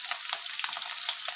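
Onions and curry leaves sauté in a hot pan, giving a bright, continuous sizzle with crackling bursts and a few spatula scrapes, close and fairly loud with no voices.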